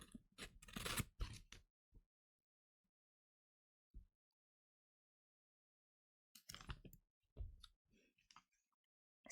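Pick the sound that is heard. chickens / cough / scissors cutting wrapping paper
scissors cutting wrapping paper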